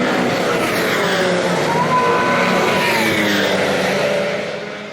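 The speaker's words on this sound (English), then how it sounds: "it was the sounds of the Formula 1 cars that day more than anything" Historic Formula 1 race car at Brands Hatch roars loudly and steadily at close range, engine note shifting as it passes, with no talk.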